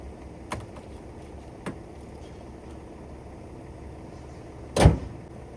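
A car bonnet is shut after engine oil is topped up, giving one loud, close thud near the end against a quiet background with a couple of faint knocks earlier.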